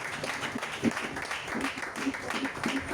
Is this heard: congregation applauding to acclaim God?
yes